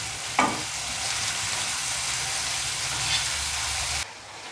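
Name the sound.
onions frying in a pan for poha upma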